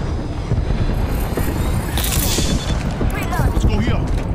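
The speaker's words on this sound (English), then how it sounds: "Calling the airstrike." Heavy explosions from an airstrike in the video game Apex Legends, a dense rumbling barrage that swells in the second half with overlapping booms and crackling impacts, steady loud background of gameplay noise.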